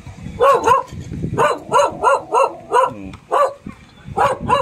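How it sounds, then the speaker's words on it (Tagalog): A dog barks repeatedly outdoors at a guest house, the barks loud and close, coming in an uneven run of about a dozen with short gaps between them. "May aso pala rito."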